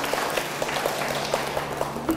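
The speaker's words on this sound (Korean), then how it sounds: "보통 이 대목에서는 박수가 나오는" Light, sparse applause from an audience at a Korean district participatory-budget talk, a few scattered claps over a faint room background, brief and quiet.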